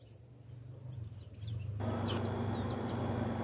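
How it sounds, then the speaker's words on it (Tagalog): Young chicks, part of a flock of about 46 moved to a small farm, give repeated thin high peeps and chirps over a low steady hum, growing busier and louder partway through. "Naglipat kami ng mga sisiw galing sa aming bahay."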